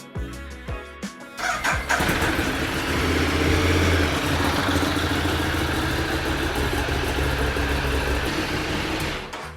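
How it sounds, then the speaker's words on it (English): A Ducati 848 Streetfighter motorcycle cranks with a few starter clicks, then catches and settles into a loud, steady rumbling idle right after an oil change, close up with no talking. "now we're gonna run the bike for 30 seconds just to move the oil through the engine"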